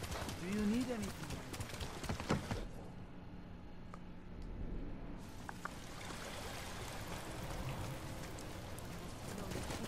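Horse hooves clopping steadily in the video game Ghost of Tsushima, with a soft rain-like patter in the background, while a person talks over the sound.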